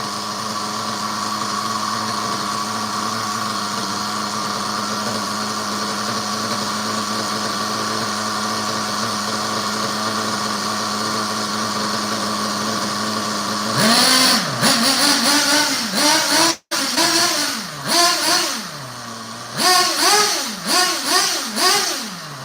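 An O'Donnell ZO1B RC model engine, left unused for about a year, holds a loud, steady high-pitched drone before snapping into a string of rapid revs that rise and fall sharply at close range.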